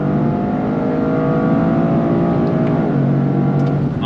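A 2025 Toyota GR Corolla with an 8-speed automatic roars loudly up close, revving steadily with pitch shifts from quick downshifts, no voices over it.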